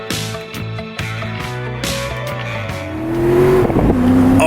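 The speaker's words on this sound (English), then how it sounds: "Let's do a quick race at Charlotte Motor Speedway." NASCAR stock cars racing at Charlotte Motor Speedway in Assetto Corsa, with engines pulsing and roaring through quick gear changes before settling into a steady, rising high-revving drone, loud and close.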